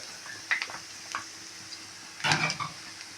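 Onions frying in a tablespoon of coconut oil in a pan, a faint sizzle with a few light stirring scrapes and one louder clatter of the spoon, no voices.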